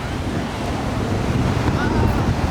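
Ocean surf washing onto the beach at Atlantic City, a steady broad roar of breaking waves with wind buffeting the microphone throughout.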